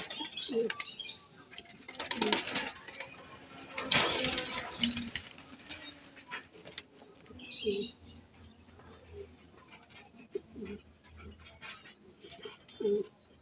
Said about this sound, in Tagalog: Ayun na sila mga kaibon, oh.